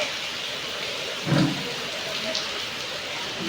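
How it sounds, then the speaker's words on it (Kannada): Rain falls steadily at night as a continuous, even hiss with a brief louder patter partway through. "ಮಳೆ"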